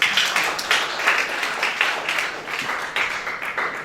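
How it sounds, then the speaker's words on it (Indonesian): Worshippers clap together in a church service at GBI, producing a dense, continuous patter of hands with rhythmic peaks, loud and close, with no talking over it. "tepuk tangan Tuhan"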